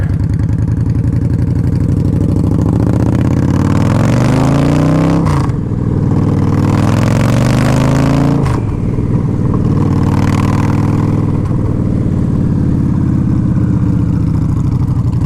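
A 2011 Victory High Ball bobber motorcycle engine revs up loud and close, rising in pitch through repeated throttle pulls with brief breaks between, a throaty mid-range roar throughout.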